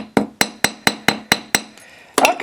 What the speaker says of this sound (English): I'll just hammer it down a little bit.